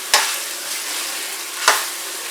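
Keema karela, minced meat with bitter gourd, garlic and onion, sizzles steadily in a pan. Two brisk stirring scrapes cut through the constant frying hiss.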